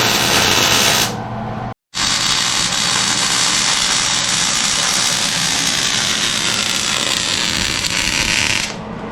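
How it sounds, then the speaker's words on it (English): Rear spring hangers are welded onto a 1946 Chevy rear end, giving a loud, continuous crackling buzz up close that cuts out briefly near the start, then runs on steadily. "Welding the rear hangers on, fronts are on it."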